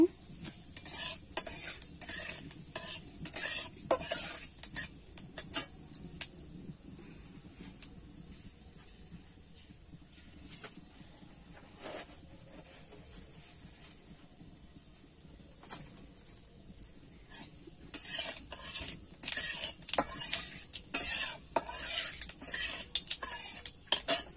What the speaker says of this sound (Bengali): ফোড়নটা আমি একটু ভালো করে ভেজে নেব।